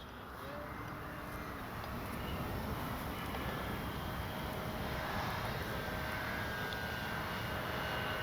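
An E-flite Sportix RC airplane flying at half throttle gives a steady, continuous motor drone at a distance, mixed with wind noise across the whole stretch.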